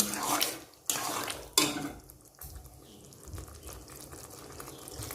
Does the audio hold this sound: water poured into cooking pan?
yes